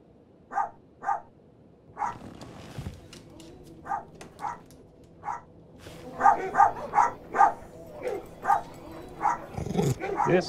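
A dog barks repeatedly in short sharp bursts, a few spaced barks first and then a quicker run of yips and barks, close and clear with some whimpering between them.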